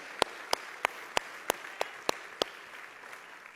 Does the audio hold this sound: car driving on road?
no